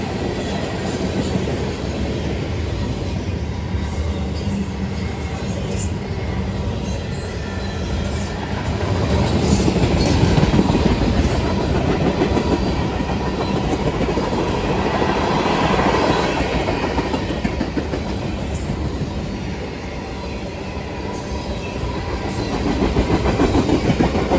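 A long intermodal freight train rumbles past nearby with steady clickety-clack of wheels on rail joints and occasional metallic squeal, continuous for the whole stretch.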